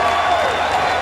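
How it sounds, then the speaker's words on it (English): A large crowd of Rangers fans roars and applauds after a goal at a hockey game, a loud sustained wash of cheering and clapping throughout. "They stand and cheer."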